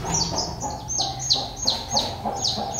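Repeated high chirps from young chicken chicks peep in a steady rhythm, close and clear, with faint clucking beneath.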